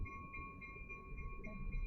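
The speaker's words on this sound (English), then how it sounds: "We're going to let that train pass by." A train passes by at a distance, a faint low rumble of railcars under a steady high-pitched squeal or whine, with no one speaking.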